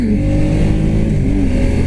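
A 2016 Ducati X Diavel S engine drones steadily at a loud, close, constant pitch while underway, with a small shift in tone partway through and wind noise layered over it.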